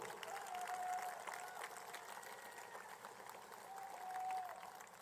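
Applause from an audience at a presidential swearing-in ceremony, honouring the Vice President; a steady, moderately loud wash of clapping runs through the whole clip with some crowd murmur and a faint whistle-like tone.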